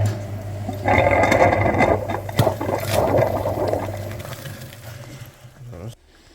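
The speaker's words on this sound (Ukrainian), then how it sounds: "Підключились на радіатор пічки чистенький фільтр, вмикаємо апарат." A flushing machine switches on and runs, pumping cleaning fluid through a corroded Hyundai Elantra heater core, giving a steady low motor hum with watery churning and rattles, loud up close, before it stops near the end.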